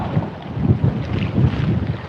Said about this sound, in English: It's fucking windy as fuck too.